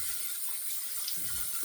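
Hot water running steadily from a bathroom tap into a sink while the face is wetted for shaving, a continuous close hiss and splash with no talking.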